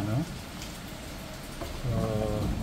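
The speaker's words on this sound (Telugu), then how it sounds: "బయటేమో వాన పడుతుంది" Steady rain falls outside a kitchen where Andhra-style Spanish mackerel curry is simmering, a soft constant hiss underneath, with a voice talking over it at the start and again near the end.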